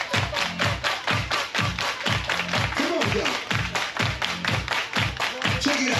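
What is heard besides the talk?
audience clapping hands in a cruise ship nightclub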